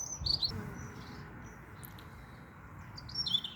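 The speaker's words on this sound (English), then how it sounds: "you can hear there's a most beautiful bird singing up there in the pear tree" A bird singing up in a pear tree on a frosty winter day near a beehive, bright chirping phrases at the start and end over a quiet, low outdoor background.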